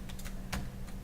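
A few quick keystrokes clack on a computer keyboard, close and fairly quiet, with a short pause between taps.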